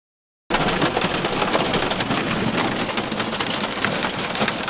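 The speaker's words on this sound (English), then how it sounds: "That is hail." Hail hammers down outside a truck camper, a loud, dense rattle of countless hard impacts that starts abruptly and continues without pause, close and heavy, with no voices.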